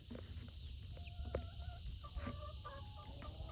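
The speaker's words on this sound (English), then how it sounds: "Look how far that chicken got." Chickens cluck and chirp on a Florida homestead in short, scattered calls, some near and some farther off, over a steady outdoor background hum.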